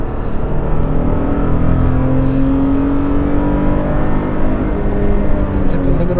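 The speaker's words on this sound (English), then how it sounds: "Hit the limiter on second gear." Toyota Tacoma TRD with a manual V6, revving hard in second gear up to the rev limiter, a loud, steady engine note climbing in pitch from the cabin, with no talk over it.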